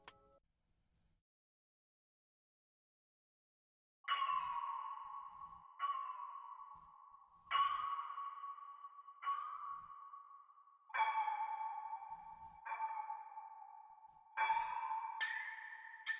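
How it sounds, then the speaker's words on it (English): Heavily processed synthetic bell in FL Studio, struck in a slow melodic sequence of about eight bright, ringing tones, each with a sharp attack and long delay-soaked decay, clean and isolated after a few seconds of silence. "the bell sounds like this"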